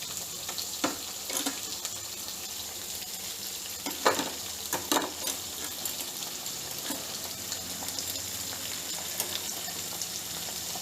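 Onions, with green chillies, frying in oil in a pan for drumstick curry, giving a steady soft sizzle with a few sharper scraping knocks of stirring, close and fairly quiet with no talk.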